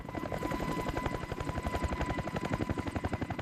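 An AH-1Z Viper attack helicopter's rotor thumps in a fast, steady pulse with a low engine drone, sustained and fairly close throughout.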